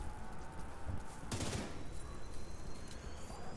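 In the video game The Division 2, a Cleaner enemy's gas tank explodes as a sudden short burst that cuts through a faint, busy backdrop of rattling gunfire.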